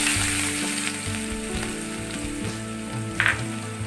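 Four to five finely chopped onions fry in a hot pan for chicken Lahori, giving a steady, close sizzle with occasional stirring scrapes and clinks throughout.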